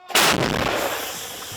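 A single heavy shot from a self-propelled artillery gun near Bakhmut booms close by, a sharp blast followed by a long rumbling decay.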